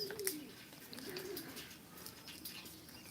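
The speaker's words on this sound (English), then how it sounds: "They sound like a little bird chirping." Soft, repeated chirps and coos from small frogs at a distance, faint against quiet outdoor background.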